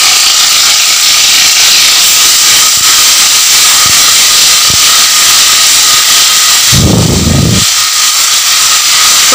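Ginger garlic paste frying with browned onions for a chicken and potato curry makes a loud, continuous hiss that swells into a brief heavier burst near the end, with no voices.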